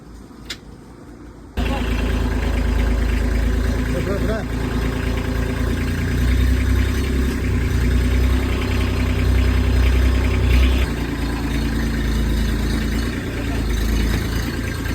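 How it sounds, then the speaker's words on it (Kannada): A tractor engine runs while being driven, a low, steady rumbling drone that starts abruptly after a brief quiet moment and holds at a constant level, with a voice heard over it. "ನಮ್ಮ ಕಲ್ಯಾಣಿ ಡ್ರೈವಿಂಗ್ ಮಾಡ್ತಾ ಇದ್ದಾನೆ ಟ್ರ್ಯಾಕ್ಟರ್."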